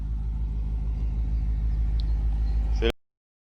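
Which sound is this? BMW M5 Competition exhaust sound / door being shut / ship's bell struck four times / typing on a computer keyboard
BMW M5 Competition exhaust sound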